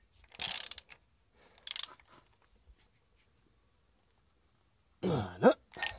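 A ratchet tightens the timing belt tensioner on a Ford Transit MK5 engine in a few short, raspy clicking bursts separated by quiet. Near the end comes a harmonic throat-clearing sound.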